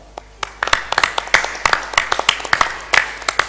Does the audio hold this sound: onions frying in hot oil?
no